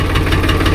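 A farm tractor engine running close by, a loud steady idle with a rhythmic low thumping pulse and a mechanical rattle, and no voices over it.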